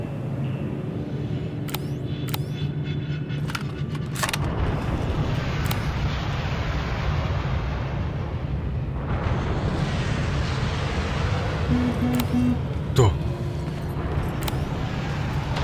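Explosions in a Terminator: Resistance combat scene, heavy rumbling blasts layered with sharp cracks and crackling debris, loud and sustained throughout with a few distinct impact spikes.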